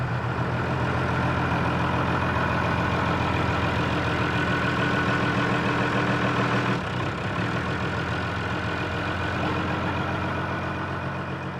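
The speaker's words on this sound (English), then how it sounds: "use his tractor to just simply move one of these bales of hay" A farm tractor running steadily while moving a bale of hay, its engine a continuous loud rumbling drone that shifts slightly in tone partway through.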